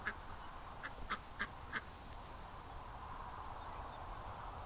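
A few ducks quack in a duck pen outdoors, four short calls in quick succession at moderate distance, then the yard settles into steady background hum.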